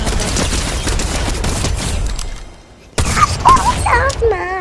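Sustained bursts of Fortnite gunfire crackle densely for over two seconds, pause briefly, then return in sharp shots mixed with game sound effects and excited talk from players.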